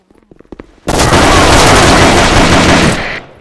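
Sustained automatic gunfire in a video game shooter, a loud, dense burst lasting over two seconds after a few faint clicks.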